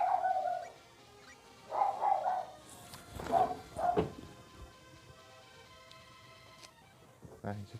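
A dog barks in short bursts somewhere in a home, the barks mid-distance and fairly faint, mixed with soft game sounds and a little talk between them.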